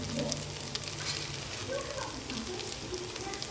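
Ginger garlic paste frying in a pan for mutton curry, a steady close sizzle with a soft crackle, continuous and even with no talking.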